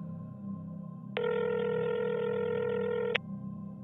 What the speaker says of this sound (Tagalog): bigla pong nag-ring ang cellphone ng asawa ko